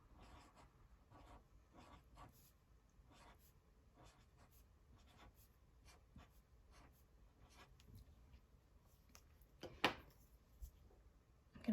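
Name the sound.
writing words with a pen or marker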